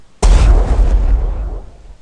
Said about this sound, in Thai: อันที่ 2นี้ก็จะเป็น explosion enemy นะครับ ศัตรูระเบิด